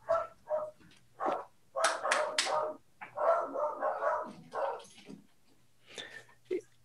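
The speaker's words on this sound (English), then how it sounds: "my dogs are going insane" Dogs barking in bursts somewhere in a home, a run of sharp barks and yips with short pauses between, moderately close and fairly loud.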